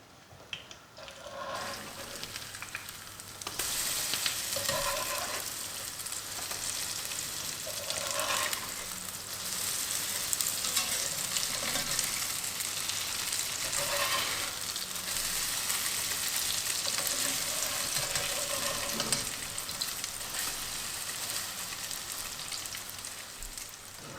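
Potato pancakes fry in a pan with a steady, soft sizzle and crackle, continuous and close with faint spattering pops throughout and no talk.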